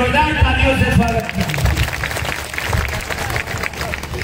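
Applause and clapping from a crowd welcoming a doctor at a village wrestling event, a loud continuous mass of claps mixed with crowd noise and voices throughout.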